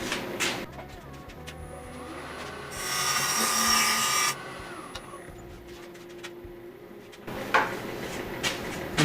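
Sanding a wooden speaker part on a spinning lathe gives a bright, raspy hiss lasting about two seconds, amid quieter workshop clatter and knocks.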